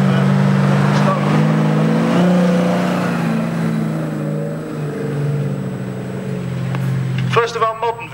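A Foden two-stroke six-wheeler truck with a crane and drop-side body carrying stone runs at a vintage lorry parade, its low steady engine drone filling the scene with a brief sharper burst near the end under speech.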